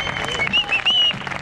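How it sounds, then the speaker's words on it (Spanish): A rap battle crowd applauds the judges in a short, loud burst of clapping mixed with shouting voices and a whistle-like cry. "vamos a darle un aplauso a los jurados"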